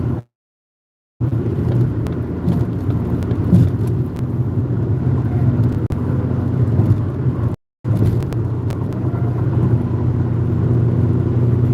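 A car cruising along the 605 freeway, its interior filled with a loud, steady low road rumble and engine drone that cuts out briefly twice.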